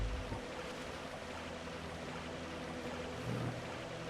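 Water bath spell effect in Dark Souls plays as a continuous watery, rushing wash, a steady sloshing texture with a faint low swell near the end, moderately quiet and without talk.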